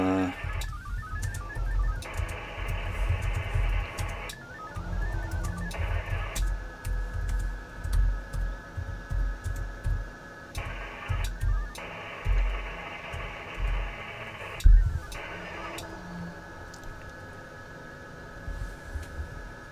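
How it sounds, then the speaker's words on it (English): Computer keyboard typing in bursts of rapid clicks over a steady low hum, with a person talking intermittently during amateur radio file transfers over VARA HF. "he's typing again."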